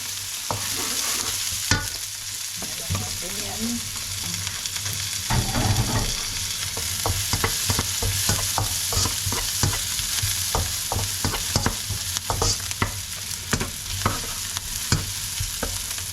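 Onion and then garlic sautéed in a hot pan for a home-style Filipino vegetable stir-fry, with a steady sizzle under repeated scrapes and stirring clicks from a spatula, close and continuous.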